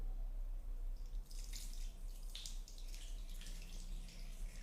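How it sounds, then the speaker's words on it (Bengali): A steady, continuous stream of water poured over a Shiva lingam during worship, splashing and trickling without pause at close range. "এরপরে আমরা শিবলিঙ্গের মাথায় জল অর্পণ করব।"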